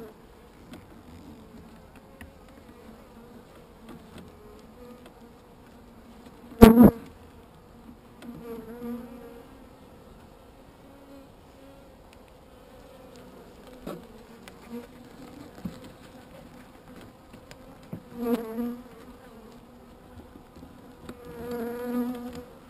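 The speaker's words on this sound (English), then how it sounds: "Bees attack." Bees buzz around a hive in a wooded setting, a low hum with insects passing close by and a few louder bursts as individual bees fly near.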